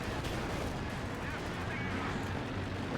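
Artillery and cannon fire rumble through a Company of Heroes 2 battle, a dense continuous barrage of booms and distant blasts with a voice talking over it.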